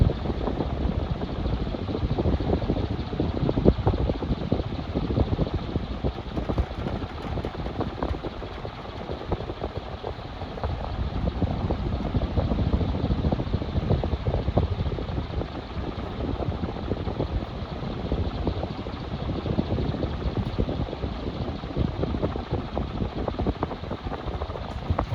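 A Relite 56-inch industrial ceiling fan runs steadily with a constant broadband whoosh of moving air and a low mechanical hum, holding even and fairly loud throughout with no voices.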